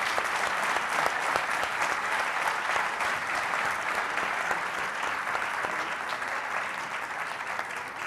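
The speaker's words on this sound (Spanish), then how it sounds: "Un aplauso." Sustained audience applause at a policy seminar panel, many people clapping in a dense, even roar that holds steady for several seconds and tapers slightly toward the end, with no voices over it.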